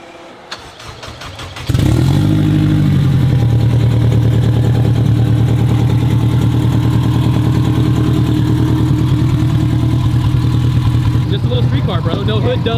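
A 1050 hp all-wheel-drive Honda Civic hatchback with a stage 2 cam cranks and fires after a short moment of talk, then settles into a loud, steady, close idle that runs on unbroken.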